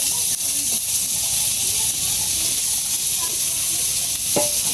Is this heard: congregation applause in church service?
no